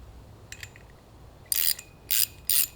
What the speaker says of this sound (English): if you have a socket set, it's going to make the job go a lot quicker and easier.